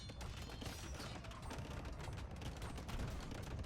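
Hand cannons firing during a strategy game battle, a dense, continuous clatter of overlapping shots and impacts, faint and busy throughout.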